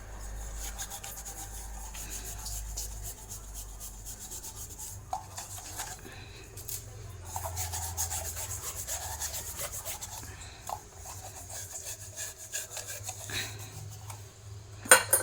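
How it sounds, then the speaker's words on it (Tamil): A tarnished, long-neglected lamp scrubbed clean, close rubbing and scraping strokes in an irregular rhythm, soft at first and growing busier, ending with a couple of sharper knocks. "இப்போ இதை நம்ம நுறுக்க தேய்ச்சி எடுத்துடலாம்"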